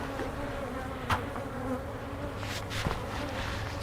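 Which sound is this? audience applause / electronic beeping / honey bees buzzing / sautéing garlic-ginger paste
honey bees buzzing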